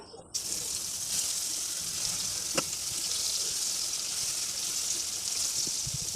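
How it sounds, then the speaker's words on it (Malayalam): Masala-coated fish pieces frying in oil in a pan, giving a steady, fairly soft sizzling hiss throughout with a faint utensil tap. "ഇനി നമുക്കതിലേക്ക് എണ്ണ ഒഴിച്ചിട്ട് ഈ ഫിഷെല്ലാം നല്ല രീതിക്കൊന്ന് ഫ്രൈ ചെയ്തെടുക്കാം"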